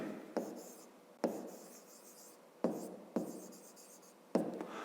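A pen writes on paper while a 5th-grade math exercise is worked out, with several short scratchy strokes, each starting with a sharp tap and trailing off, close and quiet, and no talking.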